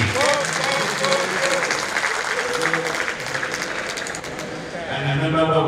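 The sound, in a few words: audience clapping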